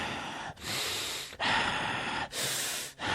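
A voice imitating a man's heavy breathing, loud rasping inhales and exhales in long gasping bursts separated by brief pauses, close and alone.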